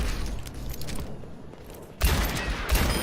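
Ashe's Viper rifle in the Overwatch video game fires dense, overlapping gunshots, steady for the first second, fading briefly, then a louder burst of close shots returns after two seconds.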